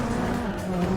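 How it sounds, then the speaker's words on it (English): Car grinding along a wall in the racing game Juiced, a steady droning engine with scraping tire noise, sustained and fairly close. "Hopefully I can do this wall grind and it will like help me overtake everyone"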